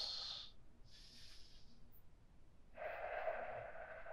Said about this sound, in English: Full deep breaths.